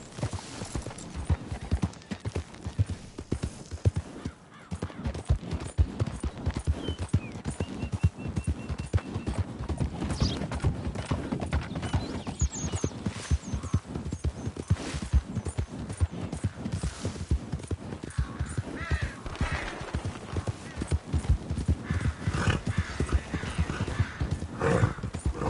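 A horse gallops in a PlayStation 4 video game, its rapid rhythmic hoofbeats running throughout the whole stretch with a brief neigh, loud and close over light background ambience.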